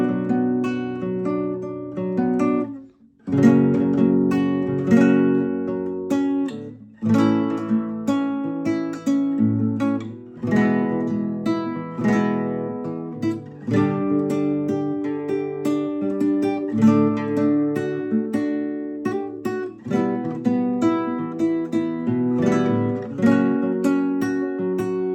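An acoustic guitar plays a song without a capo, with strummed and picked chords ringing out steadily and loudly for over twenty seconds, with one brief pause near the start and no talking.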